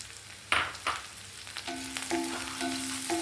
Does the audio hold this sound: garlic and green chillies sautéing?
yes